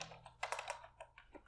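Soft, quick typing on a computer keyboard during data entry, a rapid patter of light key clicks at close range.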